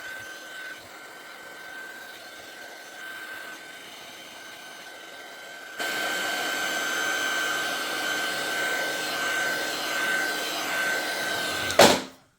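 A hair dryer blows steadily to dry Brusho powder paint on a card, starting softer and then running louder and fuller for several seconds before cutting off abruptly with a brief clunk near the end.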